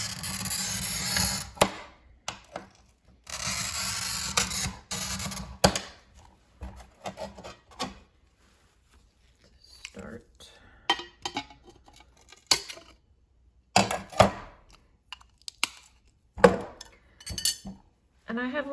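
A scoring tool cuts wide strips of mosaic glass, with short scratchy scores and sharp clinks of glass pieces knocking on a hard surface, coming in irregular bursts between quiet gaps.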